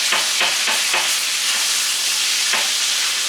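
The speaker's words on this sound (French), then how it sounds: "Pendant que Stéphane fait cuire son steak, ça ne sera pas long" A half-inch steak frying in a hot pan, a loud, close, continuous sizzle and hiss with a few sharp spatters near the start and one more toward the end, no voices.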